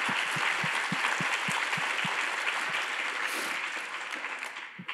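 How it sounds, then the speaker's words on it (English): An audience at a talk on Latino history in museums claps steadily, a dense round of applause that fades slightly toward the end. "I think that deserves a round of applause"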